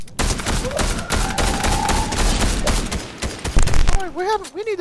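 Rapid automatic gunfire in the video game Fortnite, a dense continuous burst of loud shots lasting several seconds under game music and effects, ending in a warbling electronic tone.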